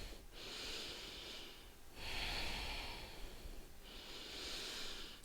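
Slow, deep breaths during a pregnancy yoga exercise, three long airy inhale-exhale swells close to the mic, each lasting over a second with brief pauses between, heard alone without talk.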